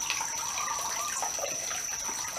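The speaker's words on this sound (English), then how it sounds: "Sounds like the water's slowing down too." Water running steadily from a tap, a continuous splashing hiss with faint drips, holding fairly even throughout with no talking.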